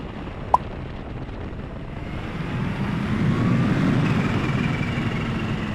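A supercharged motorbike engine drones steadily and swells louder on a runway, with a faint high supercharger whine rising over the rumble; no one speaks.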